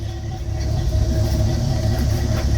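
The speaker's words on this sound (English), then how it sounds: "for those that haven't heard this car, she is a 302" A 1968 Ford Custom Galaxy 500 with a 302 V8, 2 1/4 exhaust and 40 series Flowmasters turned down ahead of the rear end runs nearby, giving a steady, loud, low rumbling idle with no talking.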